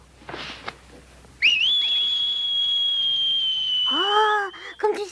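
A man whistles a long, sustained held note after a brief rustle, then a girl joins with short rising and falling whistled phrases, the tone clear and close in a quiet mountain setting.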